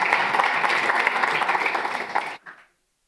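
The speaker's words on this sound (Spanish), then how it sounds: "También un aplauso para ella." Audience applause at a regional technical dialogue on prison management in Latin America, a steady wash of clapping from a crowd that fades out near the end.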